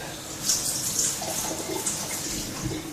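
Tap water runs steadily to rinse home-brewing equipment, a close, continuous hiss and splash with small shifts in the flow.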